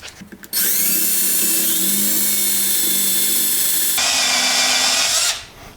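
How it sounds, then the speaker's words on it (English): A power drill whines steadily for several seconds, its pitch shifting as it drills out a screw plug on a Yamaha Virago 1100 motorcycle carburetor, then cutting out abruptly; close and loud, no talking. "I'm going to drill out the other one first."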